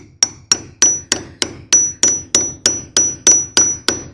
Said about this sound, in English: Once I've got my pin drove in